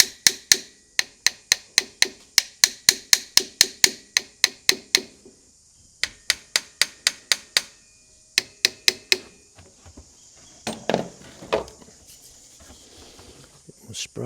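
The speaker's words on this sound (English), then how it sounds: "We'll get this piece of little hammer. Give it a bit of shock treatment." A small hammer taps on the engine of an old VW fire truck, a fast, even run of sharp metallic knocks up close that pauses briefly, resumes in two bursts, then gives way to clattering handling noises.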